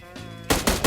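Three rapid gunshots in PUBG Mobile follow a short stretch of background game audio, loud close bursts spaced a fraction of a second apart.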